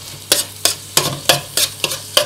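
Sausage and prawns are tossed in a hot wok for pineapple egg fried rice, about seven quick rhythmic scrapes of a spatula over a loud sizzle, close up and without talk.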